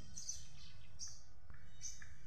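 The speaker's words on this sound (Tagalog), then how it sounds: "naririnig nyo ba yon, yung huni ng ibon?" Birds chirp outdoors on a sunny morning near a mango tree, with a few faint, high, brief tweets spread over a low, steady background hum and no talking.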